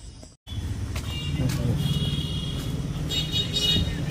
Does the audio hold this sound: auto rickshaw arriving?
yes